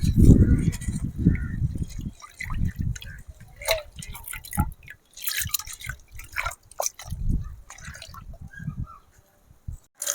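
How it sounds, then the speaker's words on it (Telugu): Lentils getting a second rinse in water for spinach dal, heard as close, irregular drips, splashes and swishes with short pauses between them. "రెండోసారి కూడా కడుగుతున్నా."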